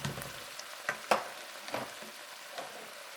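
Shrimp stir fry with cashews cooking in a pan, a soft steady sizzle with a few sharper spatula scrapes and stirring clicks, fairly quiet and with no voices.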